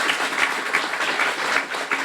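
Audience applause at a guide dog graduation ceremony, steady dense clapping filling the whole clip at a fairly loud level.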